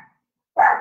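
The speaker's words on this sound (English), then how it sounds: "I just want to wait till a certain animal starts cooperating and stops barking." A single sharp dog bark, close and loud, after a brief silence.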